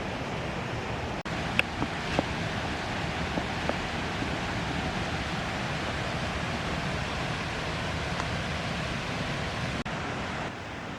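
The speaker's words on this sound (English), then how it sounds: "The sound of the waterfall is getting louder and louder." Waterfall at Pang Sida in the rainy season, a broad steady rush of falling water heard from a distance, with a few faint clicks and no voices.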